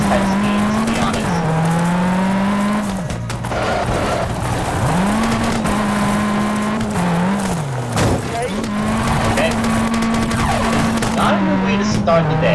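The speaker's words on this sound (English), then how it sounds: "I'm driving a rally car in Argentina." Rally car in the WRC 3 game tearing along a gravel stage in Argentina, engine note climbing and dropping through repeated gear shifts with tire noise, loud and close, with a voice talking over it.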